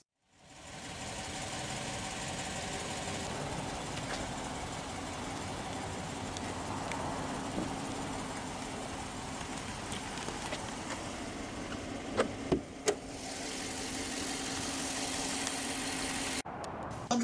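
A 2014 Chrysler 300C with the 5.7-liter HEMI V8 idles steadily and evenly, close by, with a few brief clicks late and no talk.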